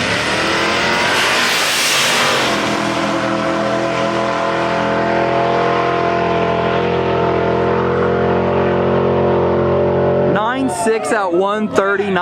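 Race car at a drag strip roaring under hard acceleration, a loud, sustained engine note climbing steadily for about ten seconds before fading, then excited voices talk near the end.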